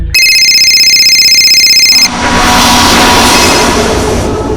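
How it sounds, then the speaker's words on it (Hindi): A phone rings loudly with a pulsing electronic tone for about two seconds, then gives way to a loud, rushing broadband noise. "और आखिरकार भावेश का फोन फिर बजा।"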